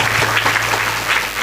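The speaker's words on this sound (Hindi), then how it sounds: "ये सुख भी बहुत बड़ा सुख है जी, तालियों से स्वागत करिए।" An audience at a Devi Bhagwat katha religious discourse claps in a brief, steady burst of applause, close and fairly loud, with a low hum underneath.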